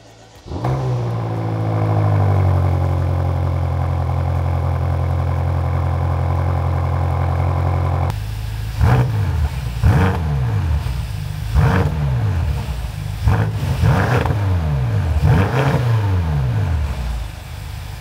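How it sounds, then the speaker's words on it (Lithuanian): A Porsche with exhaust problems cranks and catches, settling into a loud, steady idle before a series of sharp blips of the throttle rev it up and let it fall back several times, up close and without voices. "Tai ką, bandom kurtis ir lekiam."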